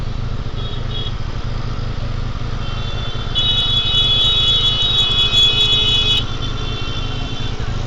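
A Honda Verza 150 motorcycle climbs the steep incline to the Sunan Muria tomb, its engine a steady, close drone with a brighter whining tone rising over it midway through.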